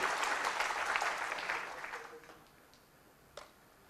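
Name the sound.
audience clapping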